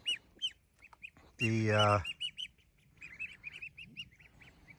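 Farm ducks and geese calling outdoors on a sunny morning, a loud, rasping honk in the middle standing out from repeated shorter quacks and chatter scattered around it, with a brief spoken word at the start.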